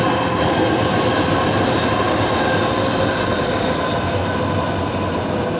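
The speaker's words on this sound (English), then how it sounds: "And I have a train coming my way." A Houston Metro Green Line light-rail train heading toward Magnolia Park passes close by, a loud, steady rumble with rolling wheel noise that fills the whole stretch and eases off slightly at the end, no talking.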